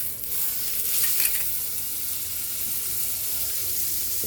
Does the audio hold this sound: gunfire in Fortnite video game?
no